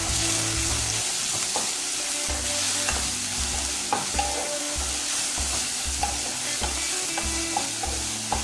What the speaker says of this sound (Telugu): ఇవన్నీ కూడా బ్రౌన్ కలర్ వచ్చే వరకు వేపుకోవాలి.